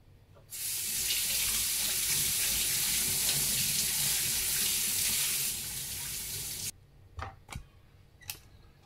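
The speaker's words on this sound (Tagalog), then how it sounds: "Hugasan ko lang bago hiwain para hindi ko nahugasan pag nahiwa ko na." Eggplant is rinsed under a running kitchen tap, a loud, steady gush of water for about six seconds that then cuts off, followed by a few soft handling clicks and bumps, with no talking.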